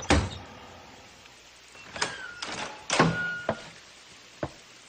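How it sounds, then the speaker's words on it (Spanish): Knocks on a house door: a few separate sharp raps spread unevenly over several seconds, fairly close, with no talking. "Toca la puerta."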